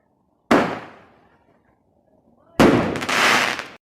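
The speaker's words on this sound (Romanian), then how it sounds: "Aveți aici testul la banana albastră." A blue banana firecracker goes off with a sharp loud bang that decays, followed after a pause by a second harsh crackling blast lasting about a second, close and outdoors.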